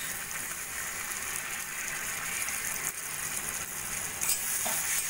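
Tomato sauce, Kashmiri chilli powder and half a lemon's juice being stirred into a sizzling pan while making chilli paneer, a steady hiss of frying with soft scraping throughout.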